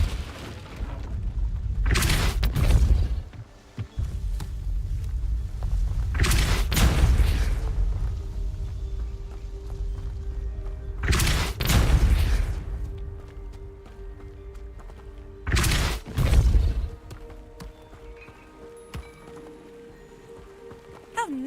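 Depulso spell cast in Hogwarts Legacy, four booming bursts spaced several seconds apart over a constant low hum.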